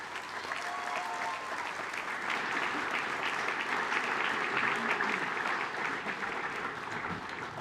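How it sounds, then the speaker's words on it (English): A school prize giving audience claps steadily for several seconds, a dense, even wash of applause from a large indoor crowd with no pauses or voices standing out. "Let's please give this group a round of applause."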